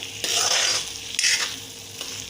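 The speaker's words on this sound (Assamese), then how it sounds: "এতিয়া খুব মই লাহেকৈ মাছ কেইডোখৰ এনেকৈ অকণমান লৰাই" Fish pieces frying in a pan for an Assamese sesame fish curry are stirred gently, two soft scraping sweeps over a steady close sizzle.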